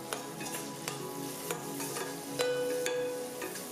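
Chopped ginger, garlic and slit green chilies fry in a pan for a Kerala fish gravy, a close, steady sizzle broken by a few sharp stirring scrapes at regular intervals.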